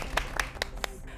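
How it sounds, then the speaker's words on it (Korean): Scattered, sparse handclaps from a small studio audience on a Christian broadcast talk show, four distinct claps spaced evenly, moderately close, with faint background hum. "박수 치셔야 돼요"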